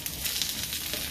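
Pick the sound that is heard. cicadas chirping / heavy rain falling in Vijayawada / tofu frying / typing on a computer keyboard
tofu frying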